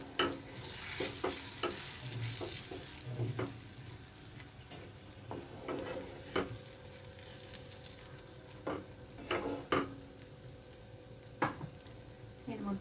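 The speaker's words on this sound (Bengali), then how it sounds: "এটাকে আমি ভালো করে নেড়ে চেড়ে নিলাম ডালের।" Chickpea dal dhoka mixture being stirred in a pan, with soft frying sizzle and scattered clicks and scrapes of the spoon against the pan, quiet and close, with no speech.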